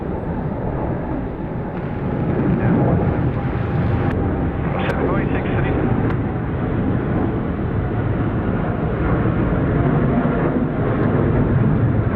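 A Qantas airliner taxis at Sydney Airport at night, its engines giving a steady, loud broadband roar that holds throughout with no other distinct sounds.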